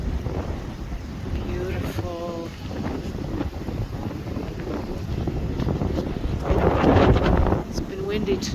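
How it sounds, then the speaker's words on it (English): Wind buffets the microphone on a beach at Waikiki, a steady broadband rush that swells louder for a moment, with a voice speaking briefly beneath it. "windy today"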